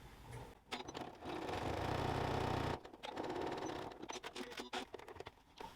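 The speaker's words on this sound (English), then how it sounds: "hold back the rest of the fabric and top stitch along that top fold" Sewing machine top stitching along a folded fabric edge of a wallet, a steady rapid mechanical whir in short bursts with pauses and a few start-stop runs, close and clear.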